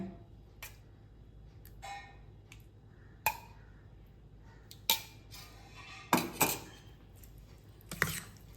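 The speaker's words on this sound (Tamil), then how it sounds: "நல்லா மிக்ஸ் பண்ணி விட்டுறலாம்." Curd rice being mixed with salt and curd in a metal vessel, giving scattered clinks and scrapes of a spoon against the pot, several sharper knocks spread across the stretch, close and fairly quiet with no talking.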